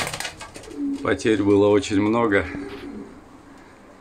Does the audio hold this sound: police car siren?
no